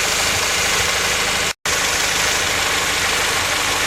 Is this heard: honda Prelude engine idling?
yes